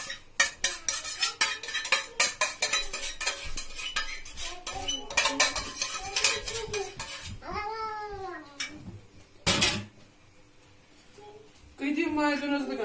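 A spoon scrapes and clinks against a pot as lentils are stirred with fried tomato paste, a quick clattering run of close metallic taps, while a cat meows repeatedly and someone speaks.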